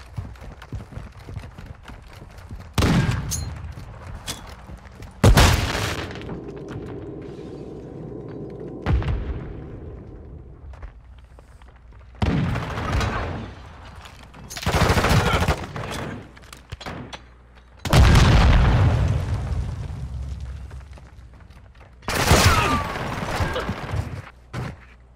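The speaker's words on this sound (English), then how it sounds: "I got a pretty good double grenade kill" Grenade explosions and gunfire in a search-and-destroy match of a shooter game come as several loud, close bursts of booms and rapid shots, separated by quieter stretches.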